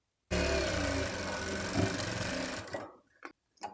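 A sewing machine stitches pleats on a baby's puff-sleeve frock, running in one loud, steady whirring burst for over two seconds before stopping, followed by a few brief clicks and handling knocks.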